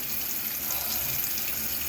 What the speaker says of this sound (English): I just sit here under the cold water and scrape.